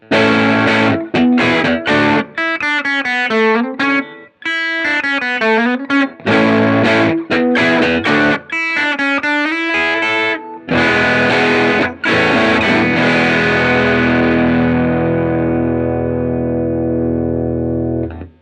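An electric guitar is played through a Benson Germanium Boost pushing a Strymon Iridium amp modeler, giving a loud, driven tone of repeated chopped chords and riffs that ends on one long sustained, slowly fading chord.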